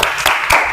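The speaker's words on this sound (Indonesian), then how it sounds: "tepuk tangan untuk Jihan" A classroom gives a student a brief burst of applause, with a few quick claps landing in an even rhythm before it cuts off.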